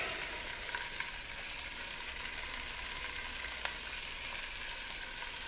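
Sausages fry gently over low heat in a red copper pan, giving a soft, even crackle and sizzle that runs unbroken with small pops and no talking.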